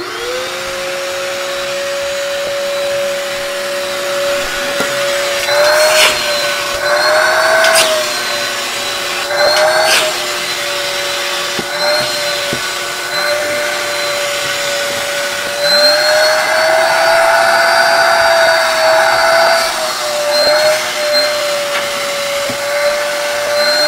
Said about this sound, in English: But just before I start vacuuming, why don't we plug it in just to see how it sounds and if it even has a powerful motor.